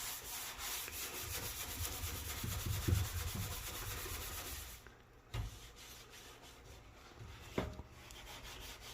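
During deep house cleaning, a light scrubbing motion on a surface makes a steady, soft rubbing hiss with quick repeated strokes, fairly quiet and close, broken by a few dull bumps toward the end.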